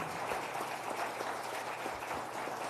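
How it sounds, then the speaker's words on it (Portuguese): Church congregation applauding during a Sunday evening service, a soft, fairly distant spread of clapping from many people that carries on evenly. "Você pode aplaudir ao Senhor mais uma vez."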